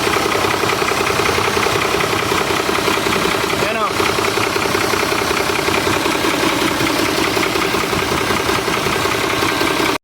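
A Mitsubishi Fuso 6D17 diesel engine with heavy blow-by runs loudly and continuously, with a rough, chugging mechanical clatter and a steady breathy rush throughout.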